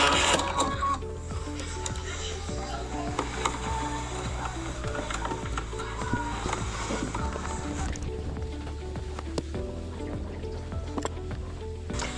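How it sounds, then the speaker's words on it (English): A sewing machine stitching a quilt binding strip hums steadily with a rapid mechanical needle clatter throughout, close and continuous with no pauses. "Now I have stopped sewing down my final strip"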